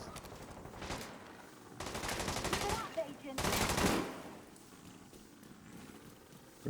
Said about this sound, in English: Where are you shooting me from there?